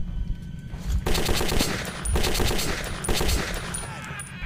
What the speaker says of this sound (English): Muzzle flash completely blinds me. I can just just aim in the general direction and hope I hit something. That is the submachine gun.